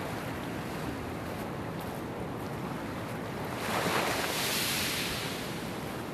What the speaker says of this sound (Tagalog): Hinahapulas ng maliit na alon ang maputing buhangin.